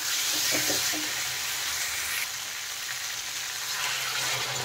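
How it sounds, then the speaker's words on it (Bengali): Water poured into hot spiced potato and cauliflower frying in a pan sets off a loud, hissing sizzle. The hiss runs steadily the whole time and shifts a little as the pour continues, with no talking. "এখন আমি এর মধ্যে দিয়ে দেব জল।"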